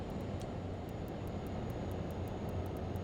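A Learjet 35 in Microsoft Flight Simulator runs its engines down, a steady broadband roar with a thin high whine and faint regular ticking clicks over the top, holding level throughout.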